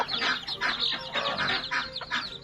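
Bantam chickens, some of them medium-legged, clucking steadily in a close, busy chorus of repeated calls at a rural backyard farm.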